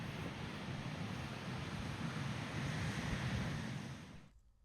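Ocean surf rolls steadily at Dillon Beach on the California coast, a continuous broad wash of breaking waves with some wind, loud and near, cutting off abruptly at the end.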